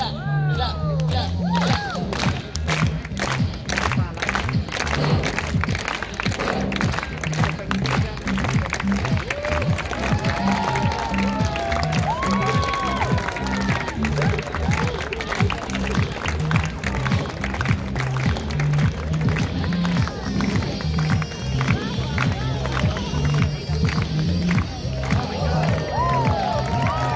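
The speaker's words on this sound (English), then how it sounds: "everybody, clap, clap, clap" A crowd watching a street performer in Old Quebec claps in a fast, steady rhythm for a long stretch, with cheering and voices mixed throughout the continuous outdoor clamor.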